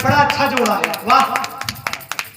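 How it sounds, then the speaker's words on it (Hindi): Scattered claps from an audience at a staged Lakshman–Parshuram dialogue performance break out as a short run of sharp hand claps, following a man's spoken praise. "एक बार तालियां जरूर बजाएं"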